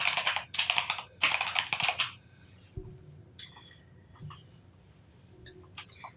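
Fast typing on a computer keyboard, two dense bursts of close key clatter followed by a few scattered single clicks and a quieter stretch, with no talking.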